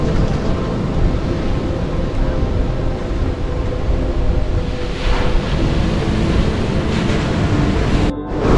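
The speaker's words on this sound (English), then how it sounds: "let's just quickly check out the beach" Ocean waves wash and roll steadily onto a resort beach on Cayo Largo, Cuba, with strong wind buffeting the microphone throughout, a loud, continuous surf roar.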